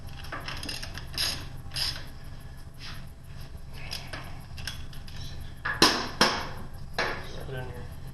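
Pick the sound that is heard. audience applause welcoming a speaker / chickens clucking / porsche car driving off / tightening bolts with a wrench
tightening bolts with a wrench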